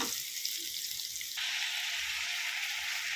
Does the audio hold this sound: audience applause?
no